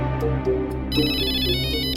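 An electronic phone ringtone plays a bright, repeating melodic pattern, loud and close, with no voices.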